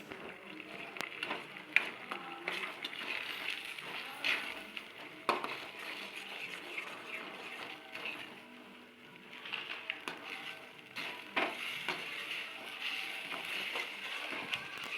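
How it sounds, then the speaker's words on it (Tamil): Eggs stirred in a pan over high heat for Tamil egg poriyal, giving a steady soft sizzle with scattered scraping and clinking from the spatula throughout. "நல்லா அடுப்பில் ஹையில் வச்சு நல்லா கிளறி விட்டுருவோம்."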